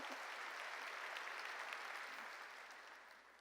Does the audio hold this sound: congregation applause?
yes